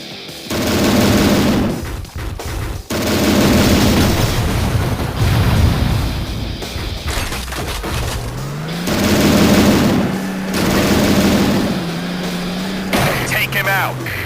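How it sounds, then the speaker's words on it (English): Repeated bursts of rapid gunfire and booms from the Nintendo DS game Transformers: Decepticons, loud and close, with electronic game tones and some steady hum in between. "Finally, I get to shoot something!"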